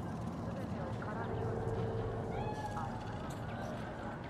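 Cat in Cyberpunk 2077's Night City meowing a few times, faint and drawn out, under low street ambience while voices talk nearby.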